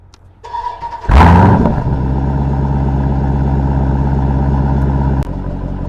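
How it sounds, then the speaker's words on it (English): An SRT Durango 392 SUV's engine fires up, caught by a mic mounted outside, with a sharp loud start flare settling into a deep, steady, throbbing exhaust idle that runs on until the end. "I have a mic on the outside of my SRT, and this is what it sounds like"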